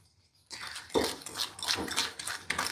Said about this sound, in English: we're just gonna whisk that together